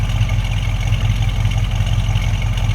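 A 1968 Ford Mustang GT 390 Fastback V8 idles steadily and close by, a loud, even low rumble with a fine rhythmic pulse and no talk over it.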